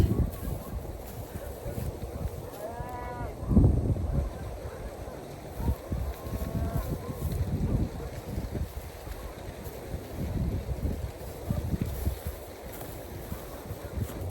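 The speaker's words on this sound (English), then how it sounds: "It's a little windy, so hopefully you can hear me" Gusty wind buffets a microphone outdoors in a garden during a moringa harvest, a steady low rumble with occasional louder bursts and faint background sounds throughout.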